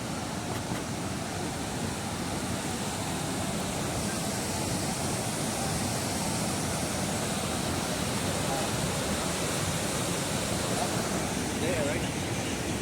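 Waterfall at Fossil Creek, Arizona, a loud, steady broadband rush of falling water that runs unchanged throughout, close by and dominant.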